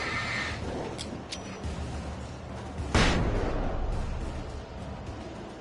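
A flashbang grenade goes off in the Alan Wake video game: one sharp, loud burst about midway, over dense rumbling game noise and a few earlier bright clicks.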